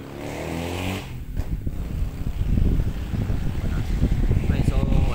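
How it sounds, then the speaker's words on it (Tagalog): Strong wind buffets a microphone outdoors during air-gun target shooting, a loud continuous low rumble with gusty surges throughout, and a voice speaks briefly near the start. "Sobrang lakas ng hangin."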